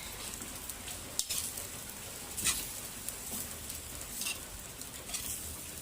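Pancit noodles are stirred and tossed in a pan, a faint steady sizzle with soft scraping strokes recurring about once a second, heard alone at low volume.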